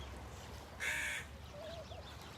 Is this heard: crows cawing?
yes